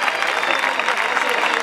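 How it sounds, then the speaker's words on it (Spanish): Loud, dense crowd applause fills the stands at a recortes contest in the bullring of Peralejos de Abajo, a steady roar of clapping with cheering mixed in throughout. "¡Fuerte, fuerte el aplauso!"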